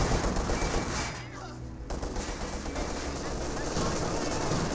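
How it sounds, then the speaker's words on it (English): MG42 machine guns fire in Company of Heroes 2, a steady rattling stream of automatic fire with a brief lull midway, heard amid battle noise and partly under a commentator's talk. "Two MG42s engaging the guards riflemen."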